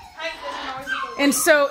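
Puppies whimpering and crying in high, wavering whines from nearby, with a person talking over them.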